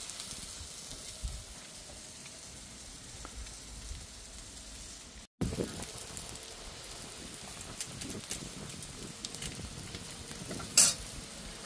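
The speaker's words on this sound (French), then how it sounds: "Et les burgers, ils seront cuits au barbecue." Burgers with onions on a Cadac barbecue give a soft, continuous sizzle with scattered crackles and a few faint clinks, fairly quiet and steady, with one brief sharp tick near the end.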